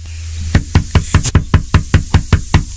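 Knocking on a door in a radio skit, about ten quick, evenly spaced loud raps close to the microphone, with no talk.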